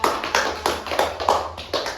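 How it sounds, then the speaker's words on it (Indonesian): Classmates in a school group guidance session clap together in a series of sharp, rhythmic bursts, close and fairly loud, with no talking over them. "Tepuk tangannya untuk lagi ya"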